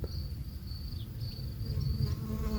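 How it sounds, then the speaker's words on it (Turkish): Steady buzzing of scout honeybees at a bucket swarm trap, a thin high drone with a few wavering tones, heard close against a low rumbling background. "bu şekilde keşifçi arılar tuzağımızı bulmuş"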